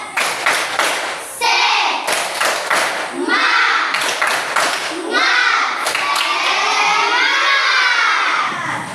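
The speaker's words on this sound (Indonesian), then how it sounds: "Ayo sekali lagi tepuk semangat." A classroom of students performs the rhythmic tepuk semangat spirit clap, bursts of hand claps alternating with loud group chanting and shouting voices, lively and close throughout.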